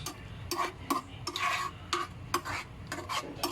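Two whole eggs beaten in a bowl, a rapid run of rhythmic whisking strokes that clink against the sides, close and steady.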